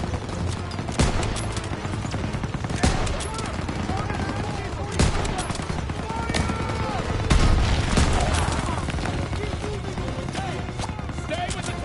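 Heavy WWII gunfire in Call of Duty WW2 around an MG-42 machine-gun nest, a constant loud crackle of rifle and machine-gun shots with sharp individual reports standing out, voices shouting over the battle.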